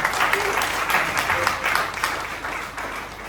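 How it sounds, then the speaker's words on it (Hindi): Loud applause from an audience at a business motivational gathering in Gaya, dense clapping sustained across the whole moment with crowd noise and a voice faintly underneath. "इसके लिए जोरदार तालियां।"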